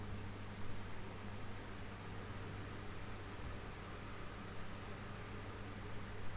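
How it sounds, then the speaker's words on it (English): An electric fan runs steadily in a room, a faint, even broadband whoosh with a low hum that never changes across the whole stretch. "The only background noise is the fan, which is on constantly"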